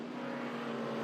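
A vintage race car at the SVRA Mid-Ohio Vintage Grand Prix roars steadily past on the track toward the finish, a loud, continuous engine drone with a strong steady tone and no voices.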